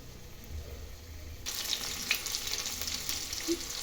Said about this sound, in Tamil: வெங்காயம் நல்லா ப்ரௌன் கலரில் வர வரைக்கும் நல்லா கலந்து விட்டுக்கோங்க